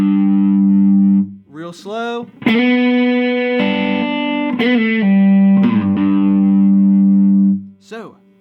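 A slide guitar plays the closing lick of a solo, with loud, sustained notes that glide between pitches, carrying distortion and effects. A voice speaks briefly.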